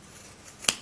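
Scissors make a single crisp snip through yarn while trimming a crochet tassel, a short sharp cut standing alone in a quiet room.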